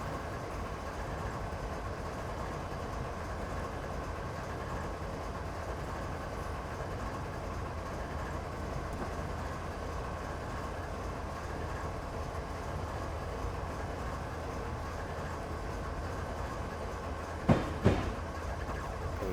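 Train running on rails in Train Simulator 2013 on the Granite to Wycon route, a steady rolling rumble with a low engine drone that stays even throughout, broken by a couple of brief clanks near the end.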